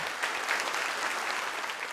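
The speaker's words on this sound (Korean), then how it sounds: "다시 한번 큰 박수 부탁드립니다" Dense, steady applause from a conference audience in a hall, a continuous wash of clapping lasting the whole moment with no voices over it.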